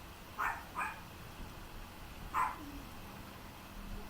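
A few short barks from dogs a little way off, three brief yaps spaced over a few seconds against a quiet room background.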